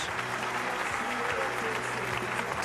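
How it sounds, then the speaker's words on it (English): A stadium crowd at the 2006 Lincoln Regional college baseball game between Manhattan and Nebraska in Lincoln, Nebraska, applauds a pitcher with dense, sustained clapping that fills the whole stretch, with a voice talking over it. "you see the crowd appreciative of Java's effort for the day"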